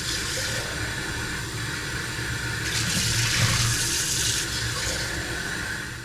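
Tap water running from a faucet into a sink, a steady hissing rush close by with a brief louder splashing surge in the middle.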